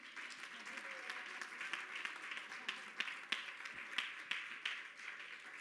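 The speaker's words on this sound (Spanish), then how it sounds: "Dele un aplauso al Señor" A church congregation applauds the Lord during a sermon, sustained soft clapping continuing throughout, fairly faint and even, with scattered sharper claps and murmuring voices underneath.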